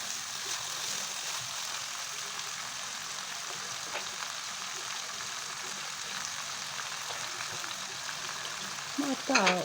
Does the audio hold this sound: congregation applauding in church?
no